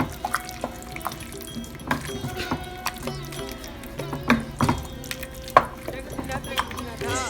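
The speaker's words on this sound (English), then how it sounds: "And then just mix it all together." A spoon stirs frozen peas into an Indian curry in a pot, giving wet, uneven scrapes and soft clacks with a few sharper knocks over a low background hiss.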